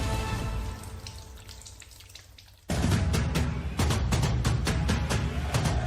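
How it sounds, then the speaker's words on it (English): A tap runs for hand washing, the water stream rushing steadily, quieter at first and then louder and fuller from about the midpoint, with a broad splashing hiss throughout. "Wash your hands."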